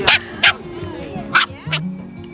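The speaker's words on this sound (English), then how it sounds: "She's a cockapoo dog, our puppy is, but she got really big." A big, shaggy cockapoo puppy barks in four sharp yips spaced through the moment, close and fairly loud, with some background household noise between them.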